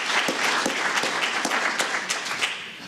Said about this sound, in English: So a great round of applause to them,